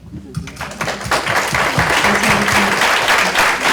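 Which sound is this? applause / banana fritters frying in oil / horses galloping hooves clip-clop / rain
applause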